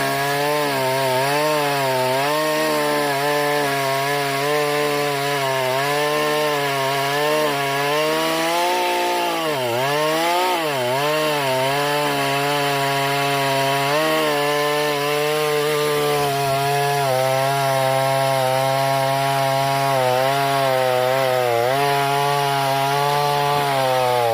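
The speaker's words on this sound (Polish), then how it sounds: "Jak widać piła sobie spokojnie radzi z takim twardym, gruszkowym drzewem, nawet na długości prowadnicy." A budget petrol chainsaw runs loud and close, its engine droning as it cuts through hard pear wood along the full guide bar length, the pitch dipping as the chain bites deeper.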